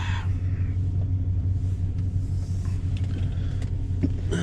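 Chevrolet Corvette with a manual gearbox being driven out onto the street, its engine a loud, close, steady low rumble throughout with faint mechanical clicks on top.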